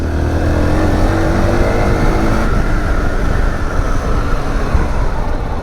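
A Zontes T2 310 single-cylinder motorcycle accelerates hard in third gear out of a corner, engine droning loud and steady with a buzzy edge and rush of wind, up close and continuous with no talk.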